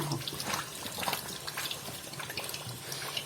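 Water rushes and splashes into the drum of a Toshiba 12 kg semi-automatic washing machine with a water pump, a close, continuous gushing fill with no talking.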